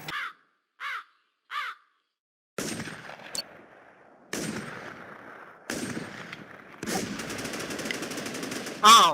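Gunfire in the video game Afterlifez: a few short isolated bursts, then repeated loud rapid shots and crackling volleys, close, with players talking in between.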